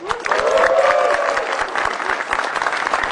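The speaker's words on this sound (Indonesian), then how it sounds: "Tepuk tangan sekali dulu yang berikan buat Fajar Nugra" Studio audience at a televised stand-up comedy show applauds a comedian, a loud crowd of clapping hands with a sustained voice ringing over it and scattered cheers.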